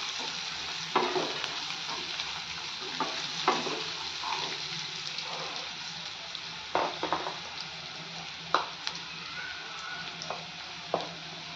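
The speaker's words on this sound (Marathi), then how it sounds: "2 लाल मिरच्या त्याही छान कांद्याबरोबर भाजून घेऊयात।" Red chillies frying with onions in a pan, a steady close sizzle broken by sharp scrapes and knocks of stirring, with no talk.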